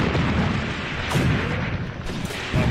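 A mortar strike lands in the war game Graviteam Tactics as a loud, sustained rumbling roar, with heavier booms rising out of it every second or so.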